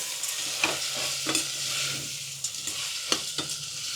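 A spoon stirs and scrapes through a sizzling pasta mixture with soy sauce in a pressure cooker, giving repeated sharp clinks and scrapes over a steady low frying hiss, close and without talk.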